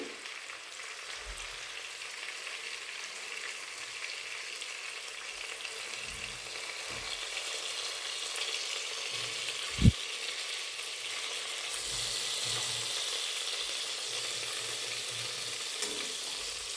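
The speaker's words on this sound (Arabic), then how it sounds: "نقلي الدجاج تاعنا مليح على الجهتين، نقليه حتى يتحمر مليح" Chicken pieces frying in a pan until browned, a continuous steady sizzle with occasional soft stirs and one sharp knock partway through.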